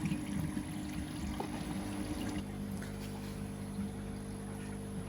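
Water pouring into a fish tank of Tamasaba goldfish fry during a water change, a faint continuous splashing flow with a steady hum beneath it.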